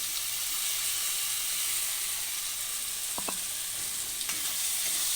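Spices frying in a pan for chicken curry, a bright steady hiss of sizzling oil throughout with a couple of brief clicks of a spoon against the pan.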